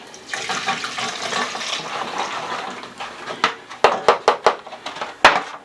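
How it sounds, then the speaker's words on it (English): Braising liquid from BBQ short ribs is poured through a strainer into a pot, making a steady close rush and splash, then a run of sharp knocks and sloshing bursts as the last of it drains. "We're going to dump all of this liquid in the pot."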